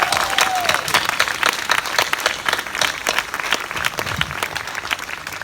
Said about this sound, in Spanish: vamos a darle un fuerte aplauso a Papá Dios